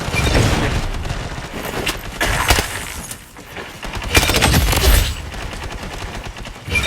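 Gunfire in the Blood Strike shooter game, loud, close bursts of automatic fire with sharp cracks and booms, briefly easing in the middle before resuming heavily.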